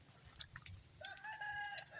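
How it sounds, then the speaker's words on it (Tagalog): Chickens on a rural farm give a few soft clucks and brief calls, faint and distant over quiet background noise, with no one speaking. "Kita nyo guys, may manok pa yan."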